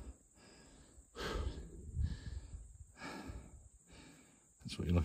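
Heavy, labored breathing follows a steep climb while fossil hunting in a valley: several deep, noisy breaths and gasps come close to the mic in uneven bursts, with short pauses between them.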